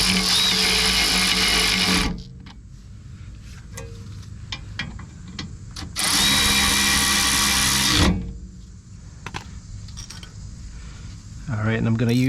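A power tool spins a brake caliper bolt on a Silverado/Sierra during a brake pad install, two loud whirring bursts of about two seconds each, separated by clicks and quieter handling noises, with a third burst starting at the end.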